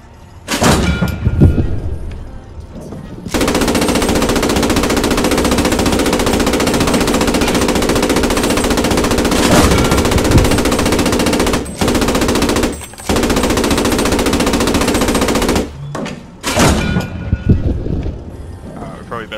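Sustained automatic gunfire in the World War II shooter Post Scriptum, a loud dense roar lasting many seconds with brief pauses, preceded and followed by shorter bursts, with players talking over it.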